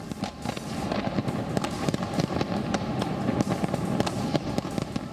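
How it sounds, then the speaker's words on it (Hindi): New Year fireworks burst over the Chao Phraya River in Bangkok, a dense, continuous crackle of pops and bangs with no talk. "थाईलैंड की राजधानी बैंकॉक में चाओ फ्राया नदी पर आतिशबाजी की गई"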